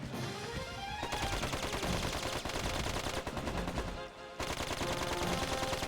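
Rapid gunfire from the video game Dark Cloud 2, dense bursts of repeated shots running nearly continuously, loud and close, with a brief break near the end before the firing resumes amid game effects and music.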